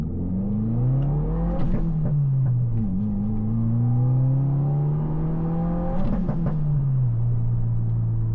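A stock VB Subaru WRX is heard from inside the cabin with the windows up, its engine droning up and down through revs, with short crackling bursts of exhaust pops at two points during off-throttle moments.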